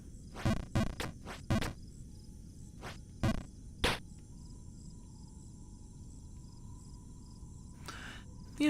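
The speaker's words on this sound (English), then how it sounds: "It's alright, we get to hear the crickets for a little bit." Crickets chirp as ambient background in the video game Jump King. A few sharp clicking bursts come first, then a thin, steady high chirping that carries on alone at low volume.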